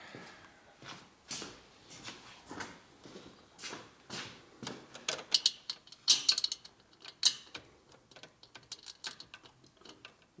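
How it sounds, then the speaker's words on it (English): A hand ratchet wrench works on a 2004 Harley-Davidson FLHT touring 88 twin cam engine during a cam and tensioner bearing repair, giving close, repeated bursts of rapid clicking strokes with short pauses between them. "Ratchet keeps not working. You invest in a better ratchet."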